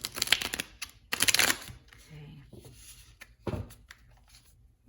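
Tarot cards are shuffled in two quick riffling bursts, close and crisp, followed by softer handling and a brief spoken word.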